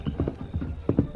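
In a radio drama, the horse Silver's hooves clip-clop in quick, fairly close beats, a short run of hollow knocks with a slightly uneven rhythm.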